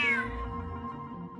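A cat in the Genshin Impact video game gives a single short, clear meow that trails off quickly, heard alone.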